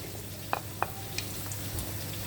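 Onions frying in a pan as coriander and pepper powder go in, for a yellow catfish curry: a faint, steady sizzle with a few light stirring clicks.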